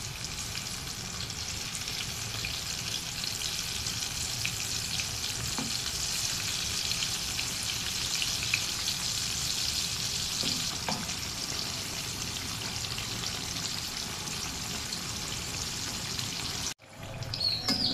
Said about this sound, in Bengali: এখানে আমি অর্ধেকটা দিয়েছি, এগুলো ভেজে তারপর বাকি অর্ধেকটা ভেজে নেব।